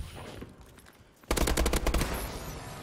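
Video game gunfire from a team shooter match, a fast burst of loud repeated shots over about a second and a half, preceded by quieter ambient game noise.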